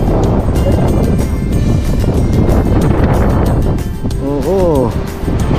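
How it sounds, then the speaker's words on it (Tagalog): Strong wind buffets the microphone aboard the open-air Haeundae Blue Line Park beach train in Busan, a loud continuous roar with gusts throughout and a short burst of voice near the end. "Masyadong mahangin kasi open air."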